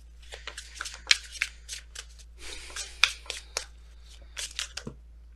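A deck of tarot cards being shuffled in quick, papery bursts, with crisp riffles and slaps coming close and fairly soft, separated by brief pauses over a low steady hum.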